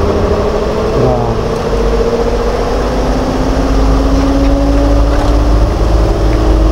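A spin dryer motor runs hard while wringing out washed laundry on a rainy day, giving a loud, steady whirring drone with a faint rising whine through the whole stretch.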